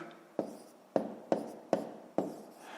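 Numbers being written on paper while working a column multiplication: five distinct, close pen strokes, each a sharp tap trailing into a short scratch, spaced roughly evenly with no talk.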